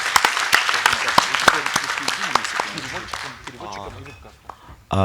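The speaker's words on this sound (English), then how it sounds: "I think that round of applause will be very good." Applause from a crowd, dense clapping that gradually fades out over several seconds, followed by a brief burst of noise at the end.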